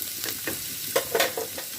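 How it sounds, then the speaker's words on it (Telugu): Onion and green chillies frying in oil while being stirred, giving a steady sizzle broken by a few sharper scraping stir sounds, close and fairly quiet, with no talking. "నూనె తగ్గనే ఉల్లిపాయ పచ్చిమిరపకాయ వేసుకోవాలి. కలుపుకుని"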